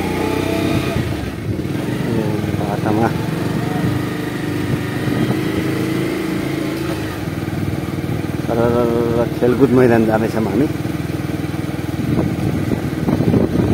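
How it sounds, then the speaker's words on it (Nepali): A motorcycle engine idles and runs steadily nearby, rising a little as it pulls away, while someone talks over it the whole time. "अब यो बाइकलाई चाहिँ फर्काएर सट्टै स्टार्ट गरेर बाहिर लग्छु"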